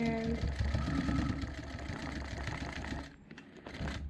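A longarm quilting machine stitches through a satin quilt top, its needle making a steady mechanical hum and rapid chatter throughout, briefly easing near the end, with a person talking over it.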